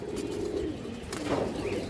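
A pigeon gives a soft, low cooing call close by, first one throaty burr and then a second shorter coo, with faint chirping and a quiet background.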